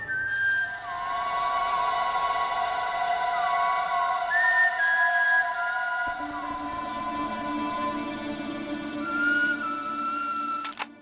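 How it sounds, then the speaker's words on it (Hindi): A person whistles a clear, sustained tune of held notes and gliding pitch changes, steady and prominent throughout, with a low droning background entering partway through. "आप सीटी बहुत बढ़िया बजाते हो।"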